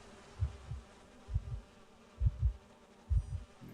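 Bees in the game Identity V, heard as four evenly spaced low droning buzz pulses, each a double swell, fairly quiet against a soft background with no speech.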